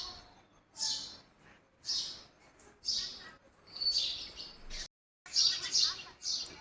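Sparrows chirp at a Gujarati rural home, giving bright, repeated high tweets in bursts about once a second with short gaps, moderately close and clear, with faint voices in the background.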